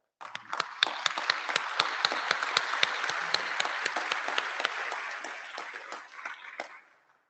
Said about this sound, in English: could I please have a round of applause?